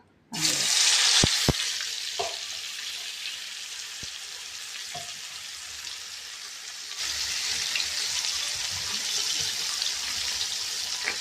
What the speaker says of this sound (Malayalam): എണ്ണ ചൂടായിട്ടുണ്ട്. അതിലേക്ക് നമുക്ക് മാറിനേറ്റ് ചെയ്ത് വെച്ചേക്കുന്ന ഫിഷ് എടുത്ത്